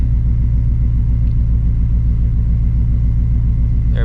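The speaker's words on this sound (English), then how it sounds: "We're doing a third gear hit just to make sure everything's straight, and then we'll do a second gear hit." Supercharged Shelby GT350 on Nitto NT555R2 drag radials running a hard third-gear pull, a loud, steady deep engine rumble with a pulsing low drone throughout and no talk.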